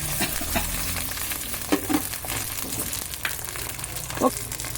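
Curry leaves, green chillies and onions sizzle in hot oil for fish curry, a steady frying hiss broken by a few scrapes and knocks as the pan is stirred.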